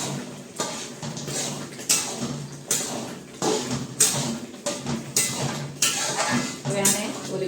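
Garam masala, coriander-cumin powder and kasuri methi are mixed with a spoon in a metal bowl or pan, making repeated close clinks and scrapes in an uneven rhythm.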